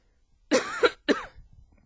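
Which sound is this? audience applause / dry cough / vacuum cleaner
dry cough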